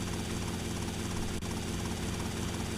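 A helicopter's rotor blades spin up in GTA Vice City, a loud, steady, thrumming beat joined by a constant engine drone with no voices.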